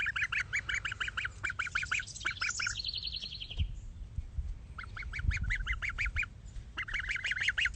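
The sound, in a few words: geese honking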